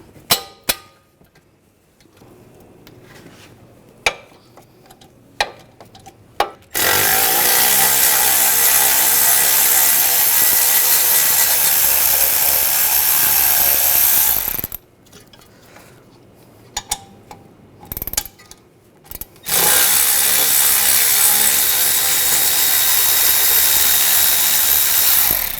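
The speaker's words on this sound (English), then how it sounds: "Now using a 7mm hex socket, we're going to take these caliper slide pin bolts out." A power tool with a 7mm hex socket spins out the brake caliper slide pin bolts on a 2007-2013 BMW 328i. Two loud, sustained whirring bursts stand out, separated and surrounded by sharp clicks and metallic clatter of tools.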